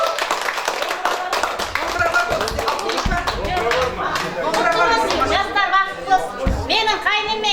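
Guests clap at a Kazakh matchmaking wedding celebration in a cafe, a rhythmic patter of hands mixed with lively chatter and singing voices, with a couple of louder thumps along the way.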